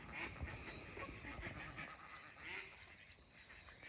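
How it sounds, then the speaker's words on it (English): Goldeneye ducks on water give a few scattered quacking and honking calls over faint wind and rustle, distant and quiet, with short calls spread irregularly across the stretch. "they're golden eyes"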